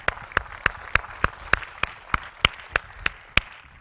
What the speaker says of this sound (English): Let's clap it out, folks.